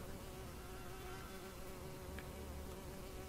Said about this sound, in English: Look at those bees, man, they're massive.